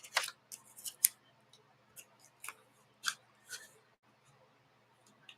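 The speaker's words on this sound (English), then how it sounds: "I'd have to cut this edge off." Scissors cut the edge off a sheet of paper for a handmade book: several crisp, close snips in an uneven sequence, quiet between cuts, with no talk.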